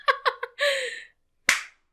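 A few sharp hand claps, close and fairly loud, come in a quick uneven burst, followed after a short pause by a single louder clap.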